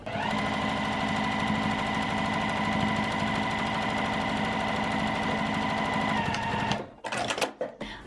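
A sewing machine stitches binding onto a small quilted mug rug, running in one long, loud, steady mechanical whir for several seconds before stopping abruptly, followed by a few brief handling rattles.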